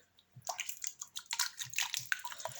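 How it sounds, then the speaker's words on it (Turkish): Water spilled onto a table gives soft wet splashes and drips, a series of close, irregular splatters and squishy patters spread over a couple of seconds. "Masaya su döktük ya."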